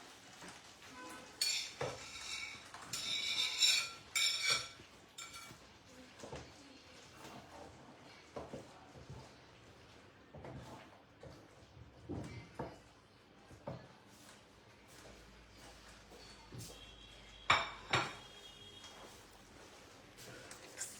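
Amul paneer being added to shahi paneer gravy in a pan in a home kitchen: intermittent clinks and scrapes of utensils against cookware, with soft stirring and a few sharper knocks near the end.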